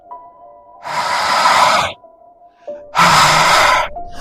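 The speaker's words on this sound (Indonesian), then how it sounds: "Suara nafas berat, seperti suara gemeretak aneh" Two heavy, breathy exhalations, close and loud, separated by brief pauses with a faint hum in between.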